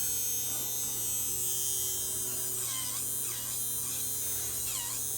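The motor from a Bissell Power Stick stick vacuum, pulled out after burning up, runs on a bench supply with a steady electric hum and buzz that holds unchanged the whole time.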